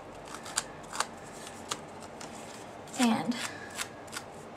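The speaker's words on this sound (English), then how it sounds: "what we're doing with this is we're just roughing up the edges" A distressing tool drags along the edges of paper card stock, giving a short burst of scratchy scraping around the middle, with soft clicks and taps before and after and a brief spoken word.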